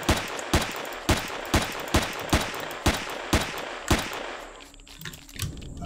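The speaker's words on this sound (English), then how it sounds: "Let's test out the junk rifle." Junk rifle fired in the sci-fi survival game Empyrion on an arid planet, about nine evenly spaced loud single shots roughly half a second apart, then quieter rustling and small impacts.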